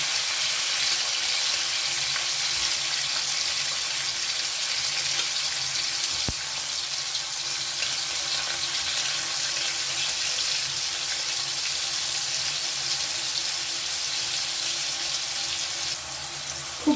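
Paneer pieces frying in a pan of hot oil, cooked in batches for Afghani paneer; an even, continuous crackling sizzle runs throughout, broken only by one sharp clink of a utensil.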